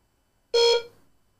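A Reolink Lumus camera undergoing a factory reset emits a single short electronic beep with a clear tone, close and isolated in silence.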